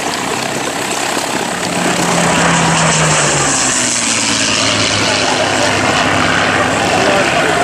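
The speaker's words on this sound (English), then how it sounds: "If we look again at the Gladiator making its flight path" A Gladiator propeller biplane flies past at an airshow, its engine drone rising from faint to loud and steady, with a low pitch shift as it passes and a commentator speaking over it.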